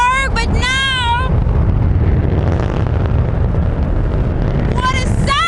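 A Soyuz rocket launching at midnight produces a deep, continuous broadband roar that fills the middle of the clip, with excited voices exclaiming at the start and end.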